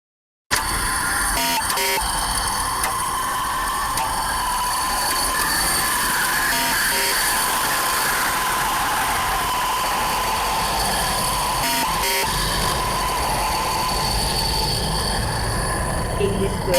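Acoustic leak noise recorded inside a transport pipeline, heard as a loud continuous hiss and rumble with faint periodic ticks, steady from start to finish.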